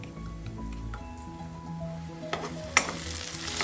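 Onions with salt stirred and fried in oil for kingfish masala roast. Background music comes first, then a rising sizzle with a couple of stirring clatters.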